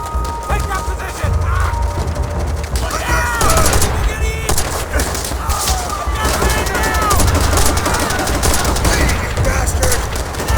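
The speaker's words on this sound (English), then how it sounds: "MG's in the bunkers up ahead!" Machine gun fire from bunkers in World at War, a dense fusillade of rapid bursts that runs throughout, loud and close, mixed with battle noise and shouting.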